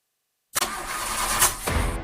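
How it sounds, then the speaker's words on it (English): A car engine cranks over continuously without catching, a steady grinding starter drone that begins abruptly after silence and holds close and loud to the end. "If that sound gives you nightmares, there's a cheap and easy way to avoid engines not firing."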